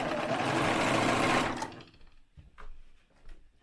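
A sewing machine stitches a reusable, reversible fabric face mask in a loud, steady whir lasting about a second and a half, then stops, leaving faint handling clicks and rustles.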